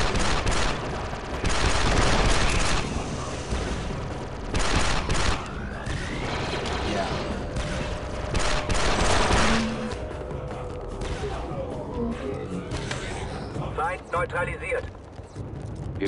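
Rapid bursts of gunfire crackle in dense volleys with footsteps and effects in Star Wars: Republic Commando, while voices talk over the action.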